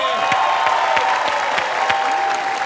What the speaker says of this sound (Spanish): Voy a pedir el aplauso para Ninel Conde.